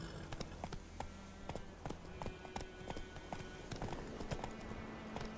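A horse's hooves clop along in The Witcher 3 video game, a quick, steady run of sharp clip-clop beats that continues throughout at a moderate, fairly close level.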